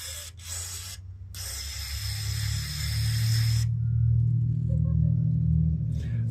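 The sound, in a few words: spraying carb cleaner on a Kohler carburetor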